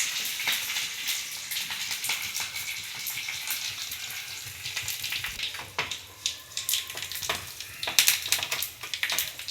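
Curry leaves hit hot oil for a tempering, giving a steady crackling sizzle that grows into sharper pops and spatters toward the end, close and fairly loud.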